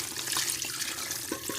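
Water is poured into a pot of stewed pork neck bones and raw vegetables, a steady close splashing pour with a few gurgling bubbles, moderately loud and uninterrupted, no speech over it.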